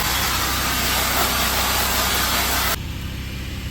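Steady loud hiss of a pressure washer spray rinsing debris off a concrete entranceway after a house wash, with a low engine drone underneath; the spray cuts off near the end, leaving the motor running.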